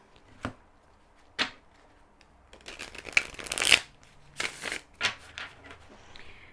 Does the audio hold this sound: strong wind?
no